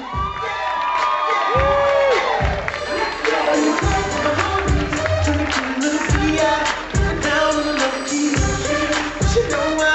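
Wedding reception guests erupt in loud cheering and whoops, a dense, lively crowd roar with scattered shouts and bangs, rising and dipping for several seconds as the bride's mother is escorted in.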